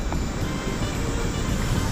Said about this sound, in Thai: น้ำตกคอนพระเพ็ง